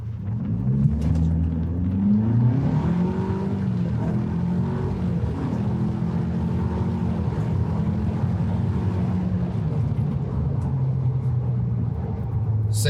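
A Ford Ranger with a 2.3L EcoBoost and Whipple supercharger accelerates hard from 0 to 60 mph, a steady deep engine rumble with rising tones early on, heard from inside without speech.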